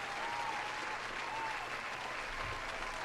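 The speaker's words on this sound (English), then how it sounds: "Here's another round of applause to you" Steady, dense applause from a crowd, a continuous wash of clapping that holds evenly throughout with no voices on top.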